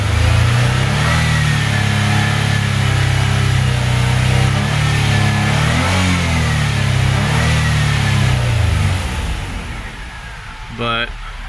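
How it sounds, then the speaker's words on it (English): A Nissan Altima race car engine revving at high RPM, with the pitch wavering up and down as the revs fluctuate, loud and close, before it drops off near the end, where a brief rattle is heard. "it looks like we do have some fluctuation in the RPM at like high RPM"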